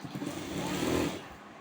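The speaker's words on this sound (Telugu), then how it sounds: "ఇలాగే లెవెల్ పట్టుకొని కుట్టాలి." A sewing machine runs steadily through a short burst of stitching, a continuous close whirring hum that holds level and then eases slightly toward the end, with no talking over it.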